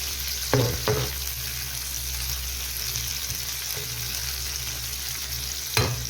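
Spices sizzle in hot oil with garlic and green chillies in a home kitchen, a steady close frying hiss throughout, broken by a few sharp clatters of a stirring utensil against the pan.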